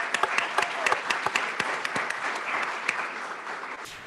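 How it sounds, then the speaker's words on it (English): Audience applause at a school district governing board meeting in Phoenix, honoring students: a steady wash of clapping from a roomful of people with sharp individual claps standing out, tapering slightly toward the end. "Another round of applause for the Herd students."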